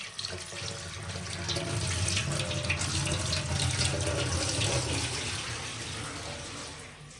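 Water runs steadily from a tap into a vessel in a village setting, a continuous close gushing that swells slightly and then eases, with no talking.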